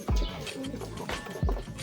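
Racing pigeon cooing close by, two low throaty coos about a second apart, with a faint steady tone in the background and no talking.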